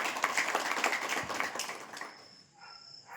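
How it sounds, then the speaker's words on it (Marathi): Crowd applause at an outdoor community rally in Indapur, Pune: dense, close clapping fills the first two seconds, then fades away, leaving a faint steady tone behind. "त्यांच्यासाठी जोरदार टाळ्या होऊ द्या।"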